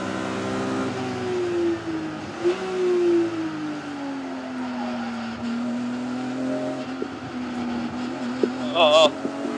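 Thunder Saloons racing cars at the Silverstone International chicane, engines droning and shifting pitch as they pass, with a sharp burst of tyre noise near the end and faint voices in the background.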